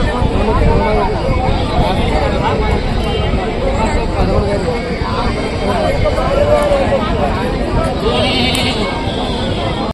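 Goats bleating amid a busy livestock market crowd at Rajarampalli, calls rising over constant loud chatter of many people nearby, with a faint aircraft drone overhead.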